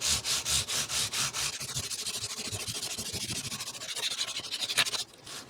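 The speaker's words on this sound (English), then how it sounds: "I'm going to hit it with some Music Nomad polishing cloth." A polishing cloth rubs back and forth along the neck of a 1999 Fender Telecaster under restoration, making steady rhythmic swishing strokes, close and fairly loud, with a quick burst of faster rubs near the end.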